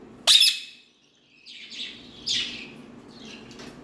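A pet talking parrot gives one sharp, loud chirp, then a few softer, scratchy chirps and squeaks close by in a quiet room.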